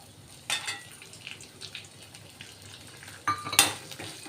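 Ginger and green chillies fry in a spice tempering. A quiet sizzle runs underneath, and two sharper bursts of stirring and scraping against the pan stand out, with no one speaking.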